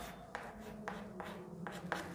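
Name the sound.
writing on a board during a lesson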